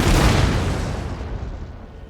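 A cannon volley in the Empire Total War video game lands as one heavy, booming blast up close, its rumble slowly fading away over about two seconds with no voices.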